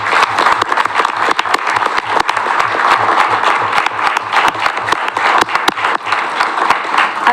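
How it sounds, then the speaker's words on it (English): Sustained round of applause from the audience at a city council meeting, dense and loud, continuing evenly throughout with no talk. "Let's give another round of applause"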